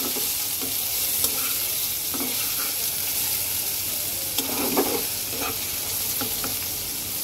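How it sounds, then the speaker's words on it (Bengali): Chopped onion and green chili fry in oil in a pan for dal chorchori, giving a steady sizzle broken by repeated scraping stirs. "পেঁয়াজটাকে সুন্দর করে ভেজে নেব।"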